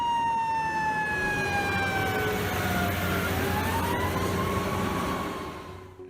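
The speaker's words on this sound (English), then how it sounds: "Even an old man could hear this siren from a mile away." A fire truck's loud wailing siren with slowly falling pitch sweeps over rumbling traffic noise, sustained throughout before fading slightly at the end.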